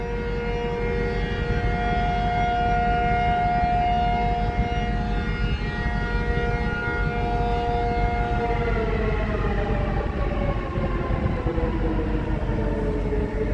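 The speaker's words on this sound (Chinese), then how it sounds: "航空警报，万安演习开始。" A civil defense air raid siren sounds for the Wan An drill near Ruifang railway station in Taiwan, a loud sustained wail that holds steady, then wavers and starts falling in pitch, with rail-yard rumble underneath and no talk.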